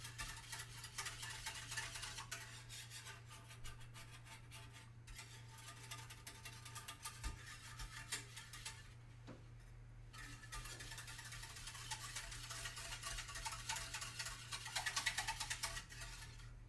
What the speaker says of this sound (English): So now I just need to whisk this until it starts to thicken.